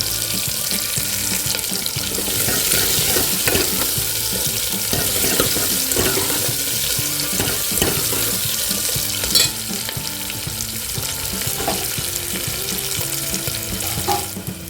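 Curry leaves sizzling in hot oil for pasiparuppu sambar, a continuous bright hiss with occasional stirring clinks, steady and close, no talking.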